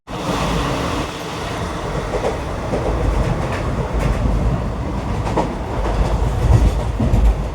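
A goods train engine and its wagons rolling past close by, a loud continuous rumble with rhythmic clickety-clack of wheels over rail joints, swelling slightly toward the end.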